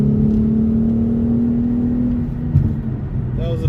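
A Nissan 350Z/G35 with Manzo cat-delete test pipes pulls hard at full throttle in third gear, with a loud, rising engine drone that fades toward the end as the revs drop.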